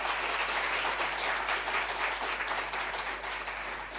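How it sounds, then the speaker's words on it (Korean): A church congregation applauds to welcome members, a steady wash of many hands clapping at moderate distance that carries on for the full stretch and eases slightly toward the end. "박수 한번 환영할까요?"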